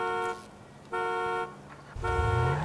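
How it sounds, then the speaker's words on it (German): A car horn in GTA V honks in three steady tones, the last one overlapped by a rising engine rev, fairly faint and with no one talking. "Komm, Auto, bist ruhig mit deiner Hupe."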